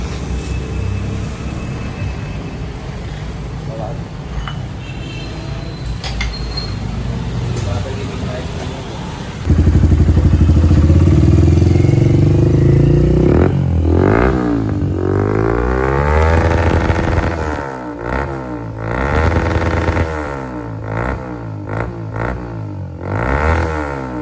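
A Suzuki GSX-125 motorcycle runs with a refitted exhaust pipe, first quietly in the background, then suddenly loud and close, with repeated throttle blips and revs toward the end.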